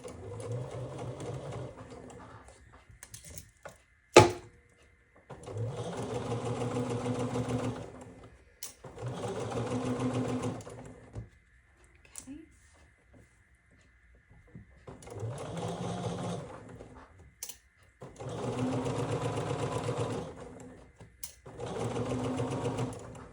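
A sewing machine stitches quilt block pieces for a Summer Star block in short loud bursts of rapid needle chatter, about five runs separated by pauses, with a sharp click before the first run.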